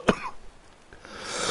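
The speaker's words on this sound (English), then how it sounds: "listening to me cough" A single sharp close cough at the start, then a quieter throat-clearing rasp and a rising background hiss.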